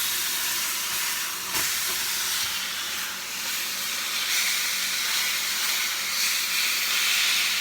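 Steak sizzles steadily in a hot kitchen pan, a bright continuous hiss with gentle swells and a few crackling pops, close and fairly quiet, with no talking.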